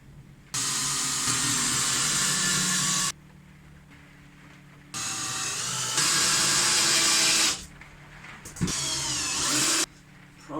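Power driver whirring in three long bursts as small screws are driven into very thin OSB board, near and loud, separated by short quiet pauses and a faint clunk.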